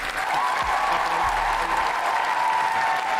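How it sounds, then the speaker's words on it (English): A studio audience at a fishing-themed podcast taping gives a round of applause, a steady burst of clapping that holds for a few seconds without talk. "Give them a round of applause."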